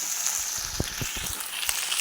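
Okra (bendakaya) frying in a pan: a steady hiss of sizzling oil with a few soft clicks and pops from stirring, close and alone.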